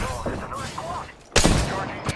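Rapid video game gunfire crackles in a shooter, a sharp loud burst cutting in after a brief lull, with scattered shots and game noise before it and a voice talking.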